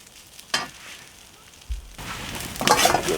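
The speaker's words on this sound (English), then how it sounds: "cooking these onions up nicely" Onions fry in a wok over an open fire at a tent camp, a low sizzle that swells to a louder, crackling hiss toward the end, with a brief low thump partway through and no talking.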